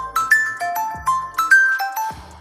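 A loud phone alarm ringtone plays a bright, repeating chime melody in quick stepped notes, with no voices, ringing out at full volume.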